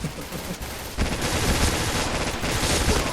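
Rapid gunfire in the online shooter Point Blank, a dense, continuous burst of loud, close shots that cuts in after a brief quieter stretch and keeps rattling without pause.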